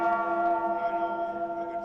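A single resonant bell strike tolling at an ice hockey playoff game in an arena, ringing out loudly at first and then sustaining and slowly fading, with no talk over it.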